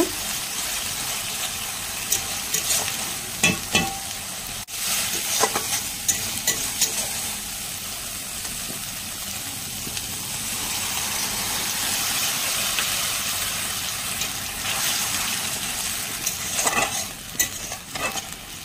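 Water is poured into oil-separated frying masala for a Bengali pomfret fish curry, raising a loud, close, continuous sizzle and bubbling hiss with stirring scrapes and clinks.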